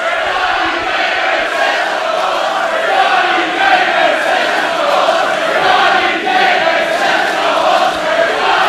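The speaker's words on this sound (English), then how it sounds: "You're talking about a hot crowd, Jamie Coleman." A hot crowd at an OTT wrestling event cheers and roars steadily throughout, a dense, loud wash of voices with no breaks.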